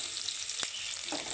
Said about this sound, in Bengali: এবারে পেঁয়াজগুলো একটু লাল লাল করে ভেজে নেব।